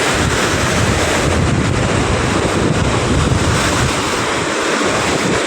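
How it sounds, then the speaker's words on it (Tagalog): Large ocean waves crash and roar continuously on the Manila Bay shore at Navotas, with heavy surf and strong wind buffeting the microphone, no voices. "ganito po kalalaki na yung alon, kahit malalaking bangka,"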